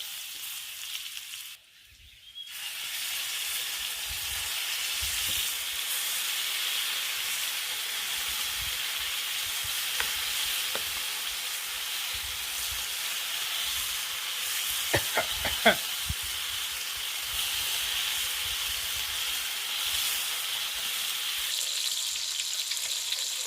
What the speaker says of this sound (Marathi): आपण मासे फ्राय करायला घेणार आहोत तव्यावर मी तेल घातलेलं आहे